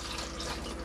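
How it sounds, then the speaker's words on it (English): Fresh water pump in an Auto Trail Imala 730 motorhome running as water flows from a tap, a steady, close hiss of running water with no pauses. "It just shows your fresh water pumps working"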